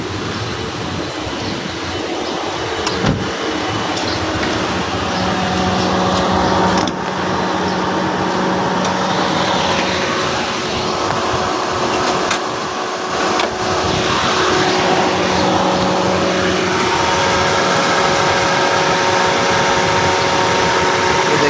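A car engine with a steering problem runs steadily in a garage setting, a loud, continuous idling hum with a few faint knocks and no talking.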